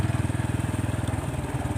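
A motorcycle engine chugs steadily nearby with a fast, regular low pulsing throb as the bike travels along a rough, damaged road, with no voices.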